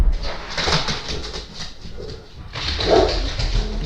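A dog barks and whines excitedly indoors at someone at the neighbour's door, in two loud bursts with a brief lull between them.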